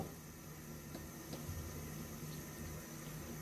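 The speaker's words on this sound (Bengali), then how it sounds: "আমাদের জলটা বলক চলে আসছে" A pot of water heating for pasta comes up to a boil, giving a steady, close rush of bubbling and hiss that holds even throughout with no voices.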